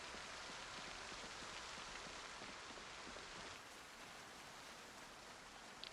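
Steady rain falling in the zombie survival game Project Zomboid, a constant broadband hiss of drops with no voices, easing slightly in level partway through.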